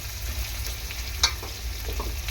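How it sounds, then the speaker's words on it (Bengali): Potatoes frying in a pan, a close, steady sizzle with a brief clack of a utensil, no voices. "আলু কটা ভেজে নেব"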